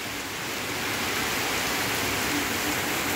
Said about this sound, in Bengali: বেহালায় মুষলধারে বৃষ্টি